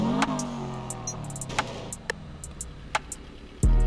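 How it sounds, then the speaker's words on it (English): Subaru WRX STI with a big bore exhaust in GTA V, its engine revved in a rising surge at the start, then idling with sharp backfire-like pops scattered throughout and a loud low burst near the end; no talk. "let me go ahead and rev it a few times so you guys can see the backfire"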